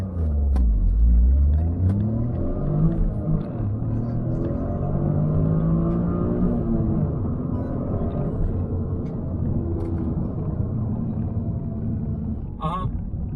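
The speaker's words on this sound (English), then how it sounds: "my launch it's spin like crazy" A 2024 Toyota GR Corolla launches hard from a standstill with wheelspin. Its engine gives a loud, sustained rumbling roar that rises and holds up close, with voices in the cabin over the noise.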